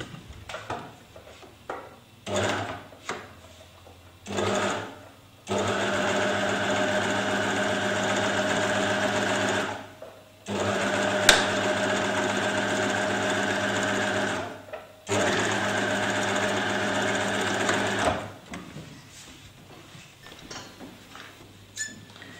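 A sewing machine straight stitching a seam in fabric runs in steady, even bursts, starting and stopping several times with brief backstitch pauses, close and clear with no talking.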